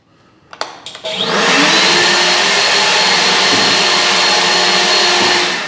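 A Nasum 40V cordless electric leaf blower spins up after a few handling clicks, then holds a steady, loud whooshing whine close by for several seconds.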